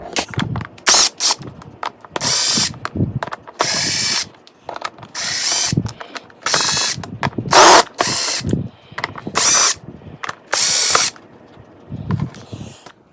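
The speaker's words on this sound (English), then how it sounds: "you see all these little screws along here. You're going to want to take these out." A hand ratchet works small screws out of the cupholder assembly of a Lexus GS300 during interior restoration, sounding as a series of loud, close, rapid clicking bursts separated by short pauses.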